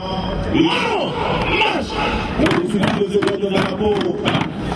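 Hostile crowd shouting and jeering during a police riot-control drill in Abidjan, a loud close mass of raised voices with rising and falling yells and some rhythmic clapping or chanting layered in.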